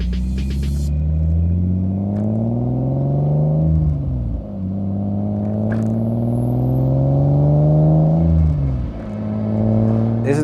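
A BMW E30 wagon with an S52 engine and dual exhaust revs up twice, deep rumbling exhaust climbing in pitch then dropping back, loud and close.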